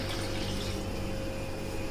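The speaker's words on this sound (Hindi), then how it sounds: "अब इसके अंदर हम गलाने के लिए पानी डाल देंगे" Water is poured into a pot of lentils being cooked for Hyderabadi mutton haleem, a steady, close, full-volume rush with no talk.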